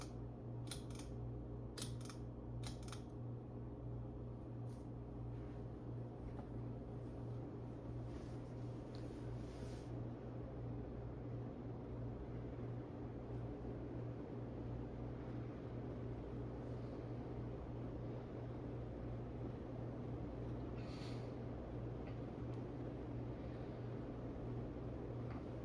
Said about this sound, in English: we're going to go ahead and crank this fan to speed 4 and see what this fan actually